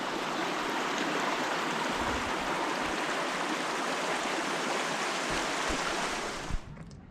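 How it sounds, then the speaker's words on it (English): A muddy creek on Mt. Hood's Timberline Trail rushes in a steady, loud broadband wash, close by and continuous, ending with a brief bump as the recording cuts off; no one speaks. "That looks like a muddy creek right there."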